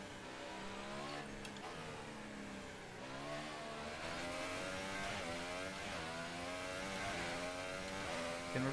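Race car engine in F1 2018 at the Chinese Grand Prix, revving steadily through a lap with rising and falling pitch as it shifts gears, loud and continuous with no talk.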